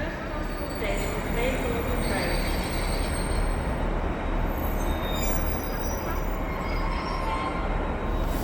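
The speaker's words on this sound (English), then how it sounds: "this is another train coming in on to platform 2" Train arriving at platform 2 at Blaydon station, a continuous heavy rumble with faint wheel squeal and no break across the whole stretch, under occasional talk.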